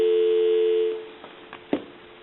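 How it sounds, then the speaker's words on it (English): A steady dial tone hums from a repaired Western Electric candlestick telephone for about a second, then cuts off, followed by a few faint clicks. "I'll give you some dial tone."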